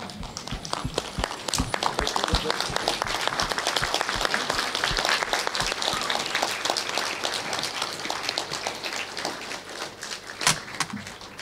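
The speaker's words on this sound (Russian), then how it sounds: "Давайте сейчас тоже встанем и поприветствуем Николая Леонидовича" A standing audience at a medical gathering gives a lively ovation, with dense, continuous applause from many hands and individual claps popping out, steady in loudness throughout.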